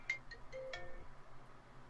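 A mobile phone ringtone goes off faintly in a quiet room during a podcast recording, a short run of bright electronic chime notes that stops after about a second.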